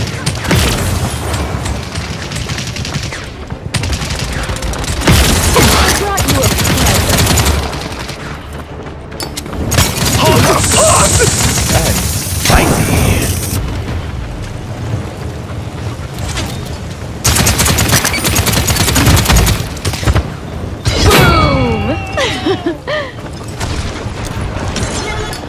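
Video game gunfire in Paladins, with loud repeated bursts, booms and rapid shots in waves across a busy battle mix, interspersed with brief quieter gaps.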